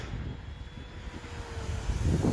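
An FMS P-47 Razorback 1500mm RC model airplane flying over a grass strip, a faint, distant steady motor drone with a thin whine, growing slightly louder at the end.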